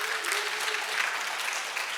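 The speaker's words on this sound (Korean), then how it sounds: "다시 한번 큰 박수로 환영 부탁드리겠습니다" An audience gives a brief burst of applause to welcome a doctor taking the stage at a lecture, dense and even clapping that fills the short stretch at moderate loudness.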